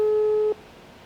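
Telephone call tone heard as a phone is dialed, a single steady beep held for about half a second before cutting off into quiet line hiss.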